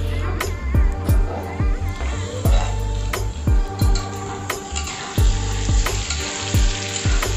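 Diced potatoes and tomatoes fry together in a pan with a steady sizzle, punctuated by sharp, regular clanks and scrapes of a spoon stirring against the metal, close up and fairly loud.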